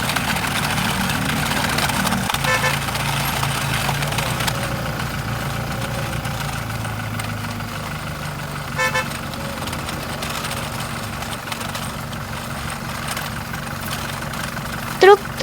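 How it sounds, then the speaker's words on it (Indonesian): A diesel truck engine runs steadily for the whole stretch, a continuous low rumble with mid-range noise. A short horn toot sounds near the end. "Mesin diesel bekerja tanpa henti."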